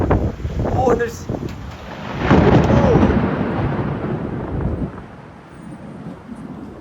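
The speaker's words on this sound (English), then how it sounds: "There's a big lightning storm." Thunder rolls from a big lightning storm outdoors, a deep rumbling swell amid heavy wind buffeting the microphone, peaking and slowly fading while someone speaks briefly.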